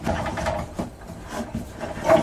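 Short scraping strokes across wood, a rough rasping rub repeated a few times, close and unaccompanied, as a line is traced along the length of a board.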